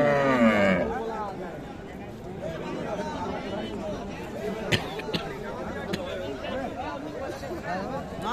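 Friesian cows at a busy village cattle market in Dinajpur, with a drawn-out moo at the start over steady crowd chatter and nearby talking.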